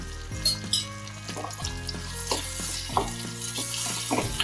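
Spices sautéing in a pan on a gas stove for a dhaba-style Kathiawadi sev tameta curry, a steady close sizzle with repeated stirring scrapes and clinks, no talking.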